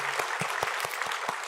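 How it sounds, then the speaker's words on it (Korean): A church congregation claps in a steady rhythm, about seven even claps in unison with a faint room murmur between them. "우리 박수 한번 치면서 시작하도록 하겠습니다."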